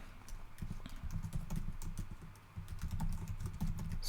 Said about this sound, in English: I'm getting better at typing the word serialize.